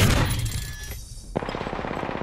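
Gunfire in Apex Legends: a rapid burst of automatic shots, then a short pause and another quick, steady volley, loud and close.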